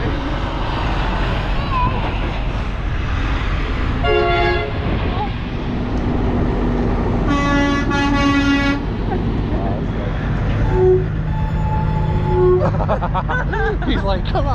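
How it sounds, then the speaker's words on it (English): Truck horns honk at a truck stop in several separate blasts, loud and near, with steady traffic and engine rumble underneath. "getting to see the kids get all these truckers to honk their horns"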